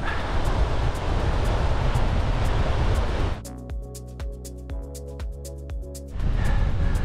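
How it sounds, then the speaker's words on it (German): Strong headwind roars and buffets the microphone for several seconds up near the Brenner motorway, cuts to a quieter stretch with a low rhythmic mechanical hum, then the gusting roar returns. "es ist schon ordentlich windig jetzt gerade hier von vorne."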